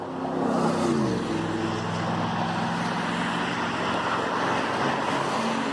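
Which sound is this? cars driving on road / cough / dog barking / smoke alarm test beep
cars driving on road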